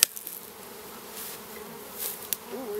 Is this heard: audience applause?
no